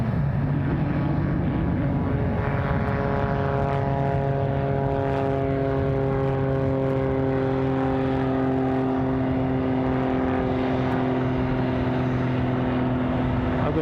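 A propeller aircraft on an Air Experience flight at Glasgow International Airport drones steadily and loudly, with strong tonal engine harmonics sustained throughout and no voices.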